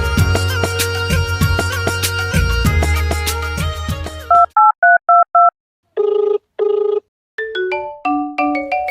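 A telephone gives dense overlapping keypad tones, then a series of short paired beeps, a longer dial tone and a descending run of dialing tones, loud and clear.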